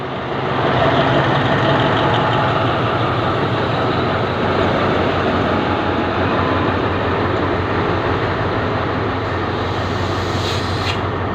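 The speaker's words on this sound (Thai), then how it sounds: "4101 นะครับ ก็กำลังถอยเข้า ต่อพ่วงกับขบวนรถท้องถิ่น" An Alstom diesel locomotive, number 4101, rumbles steadily at close range while reversing to couple onto a Thai local train, its engine droning low and continuous for the whole stretch with no voices.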